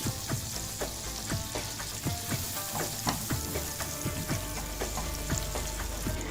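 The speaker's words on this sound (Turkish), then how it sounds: "Tereyağımızı yedikten sonra pastırmalarımızı atıp şöyle bir döndürüp tavamızdan hemen alacağız." Pastırma is tossed in melted butter in a pan, giving a dense, continuous sizzle and crackle with light stirring clatter throughout and no voices.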